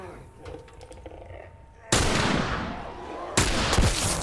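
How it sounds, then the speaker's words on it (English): Rifle shots in The Last of Us Remastered, two sharp, loud cracks with ringing tails after a quiet, rustling stretch, spaced about a second and a half apart. "Getting a little bit further away and using the rifle."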